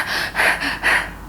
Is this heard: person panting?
yes